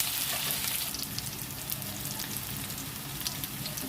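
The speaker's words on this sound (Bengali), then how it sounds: "পেঁয়াজটা ভালো করে একটু লাল করে ভেজে নিয়ে তারপরে মশলা দেব।" Onions frying in a pan for a Bengali dish, a dense, continuous crackling sizzle that stays loud and even throughout, with no talking.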